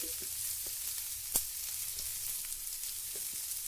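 Onions sauté in a pan with a soft, steady sizzle close by, broken by a few light stirring clicks and one sharp tap, with no one talking.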